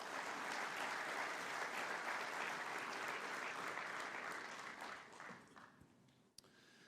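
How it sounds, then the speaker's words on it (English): A room full of conference attendees applauds steadily, the dense clapping staying loud for about five seconds, then thinning out and fading, with a brief knock near the end. "I wonder if you could give a round of applause to Andrew"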